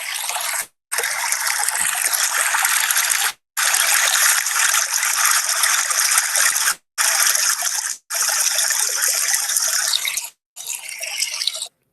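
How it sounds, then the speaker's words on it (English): Water from a stream or creek gurgles and trickles steadily with a hissy, bright wash, broken by a few sharp clean cuts between recorded segments, no voices. "That is the sound of gurgling."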